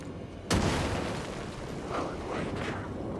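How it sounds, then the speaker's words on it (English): A flashbang grenade goes off in the video game Alan Wake II, one sudden loud burst followed by a long roaring rumble that slowly fades, with no talk over it. "Flashbang out."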